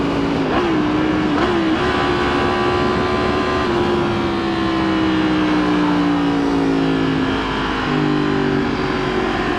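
Yamaha FZ-10 motorcycle engine, loud and close, with repeated throttle blips rising and falling over a steady idle.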